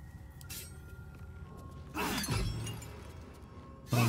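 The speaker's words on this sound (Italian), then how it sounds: "Rompiamo la fonte d'energia." In the fantasy role-playing game Baldur's Gate 3, an energy source breaks with a loud shattering crash followed by a descending magical whoosh, set against a low ambient hum, with another sharp burst at the end.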